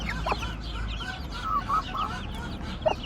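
Gurk hens cluck softly and continuously with their newly hatched chicks nearby, faint higher peeps scattered through the low, steady barnyard murmur.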